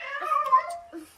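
A pet cat meows in a drawn-out, wavering cry, followed by a shorter second call, close and clear with no talking.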